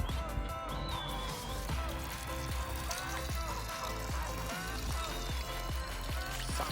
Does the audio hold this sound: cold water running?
yes